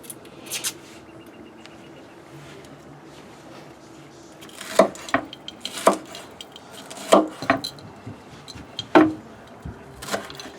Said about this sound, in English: so I can continue chopping up these peppers.